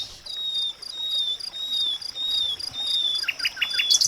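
Birds chirp and tweet over a constant insect drone outdoors, with thin high whistles early on and a quick run of sharper descending calls near the end, fairly close and fairly loud, with no talking.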